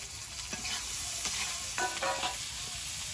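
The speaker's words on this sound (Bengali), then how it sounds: "এবার দিয়ে দেবো পেঁয়াজ একটা বড় পেঁয়াজ কুচিয়ে দিয়ে দিয়েছি" Chopped onion frying in a pan for a tengra fish curry with green tomato, a steady sizzle broken by a few louder bursts of stirring and scraping, close and alone with no talk.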